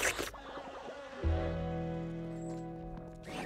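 A steady insect buzz drones close by, joined by a brief clatter at the start and a faint rustle at the end.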